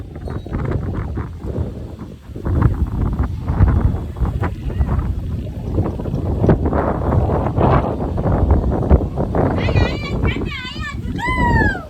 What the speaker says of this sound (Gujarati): બહુ જ પવન, બહુ જ.